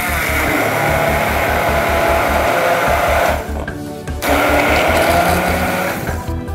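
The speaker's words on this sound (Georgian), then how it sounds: "ჩვეულებრივი სახლის ბლენდერით ვაბლენდერებთ." An ordinary household blender whirs loudly while blending salmorejo, a Spanish tomato soup, in a close, steady motor drone that cuts out briefly and then starts again.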